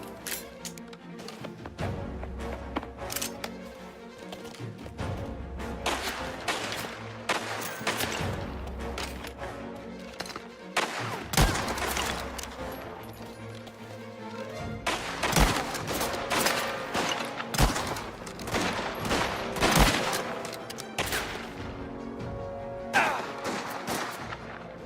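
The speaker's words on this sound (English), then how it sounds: "Just keep shooting!" Dense bursts of video-game gunfire from Mafia: The Old Country, rapid overlapping shots and heavy volleys filling the whole stretch, loud and close, with occasional sharp crashes among the firing.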